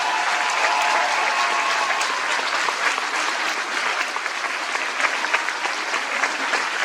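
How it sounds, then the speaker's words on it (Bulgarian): Audience applause for a village carol-singing group at the finale of a Bulgarian folk Christmas concert; a full, steady roll of clapping lasting several seconds, dense and even, with no speech. "Аплодисменти за коледарска група село Загоре"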